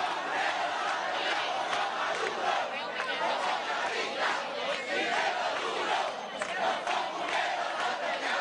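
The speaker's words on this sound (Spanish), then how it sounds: "aplauso para estos cantantes, declamadores, músicos." An audience breaks into loud sustained cheering and shouting for singers, reciters and musicians at a gathering, a dense crowd roar that swells and pulses throughout.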